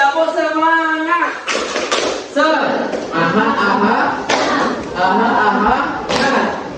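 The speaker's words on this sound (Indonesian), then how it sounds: "Tepuk semangat." Junior high students perform a patterned spirit clap together in a classroom, repeated sharp claps in quick rhythmic bursts under loud chanting voices.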